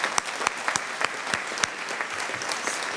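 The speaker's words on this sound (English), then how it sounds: "So I think we should give you a round of applause" An audience at a proclamation ceremony claps briefly, a moderate scattering of individual hand claps with sharp distinct hits rather than a thunderous ovation.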